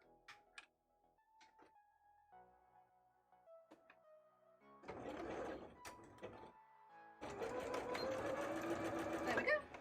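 A sewing machine stitching a bra runs in two bursts of steady fast whirring stitches, close by, after a stretch of quieter clicks, tones and handling noises.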